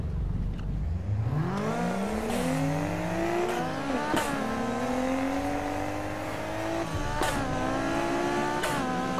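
A tuned car engine in the racing game Need for Speed Heat revs and shifts through gears while drifting, its pitch climbing repeatedly, with occasional tire noise, steady and loud throughout.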